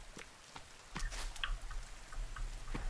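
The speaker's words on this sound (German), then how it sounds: "Ach, scheiße, weil es regnet." Rain falling in the survival game The Forest, faint scattered drips and ticks at an irregular pace over a low steady hum.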